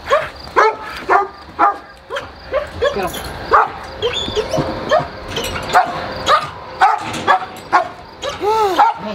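A dog barks and yips repeatedly in short bursts with some whimpering, close and loud, while a person talks in between at a kennel.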